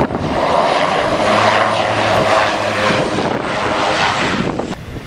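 Propeller airplane on a windy airfield runs its engine at a steady loud roar through the takeoff roll, with wind buffeting the microphone throughout.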